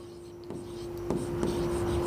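Pen scratching out a maths solution on paper or board, with a few faint strokes at first and then steadier, louder writing, plus a constant low hum behind it.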